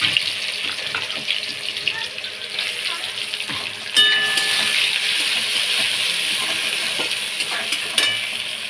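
Onions going into hot oil with green chillies in a home kitchen, giving a steady close hiss of frying throughout, brightening after a sharp clatter partway, with a few scraping stirs and no talk.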